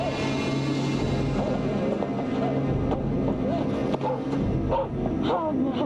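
Vandal, a dog in a swampy setting, barks repeatedly in short, close, loud bursts over a steady rumbling background of wind and noise.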